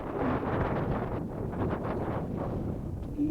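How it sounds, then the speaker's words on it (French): Strong wind on the open Mont-Aubrac plateau buffets the microphone in a steady, roaring rumble that barely lets up. "il y a du vent."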